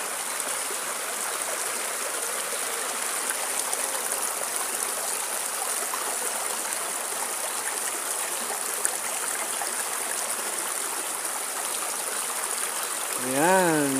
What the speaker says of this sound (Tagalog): sapa na puro bato